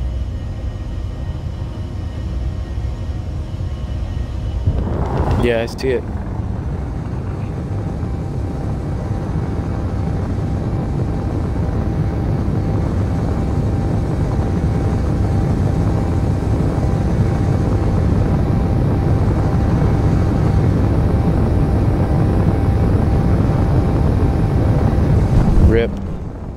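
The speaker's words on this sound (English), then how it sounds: "I'm just bringing the drone in now." A drone in the game Space Engineers hums as it flies in, a loud, constant low engine rumble with brief gusty swells, while a voice speaks briefly over it.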